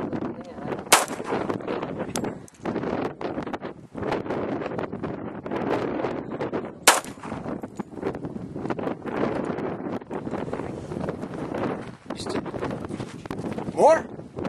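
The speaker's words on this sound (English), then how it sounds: "The first shot of the day." Firearm shots ring out outdoors over steady wind buffeting the microphone: two sharp, loud cracks about six seconds apart, with fainter bangs and rustling in between.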